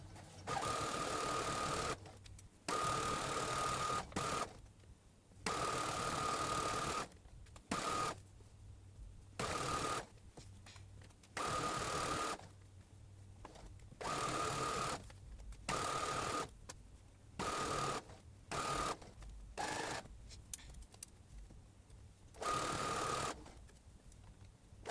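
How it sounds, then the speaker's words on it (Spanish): Sewing machine stitching the side seam of a button-up dress, loud close bursts of rapid stitching that stop and start repeatedly with short quiet gaps, no speech. "Voy a coser este lado primero y después voy a unir el otro."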